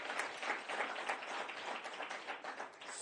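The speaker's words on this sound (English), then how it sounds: "You can clap. That's fine. You can clap." Scattered applause from a modest audience at a press event on an expanded EV charging network, moderately quiet and fairly brief, with individual claps audible.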